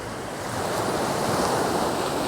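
Ocean waves wash steadily onto an Aruba beach, a close, continuous roar of surf mixed with gusting wind noise across the whole stretch.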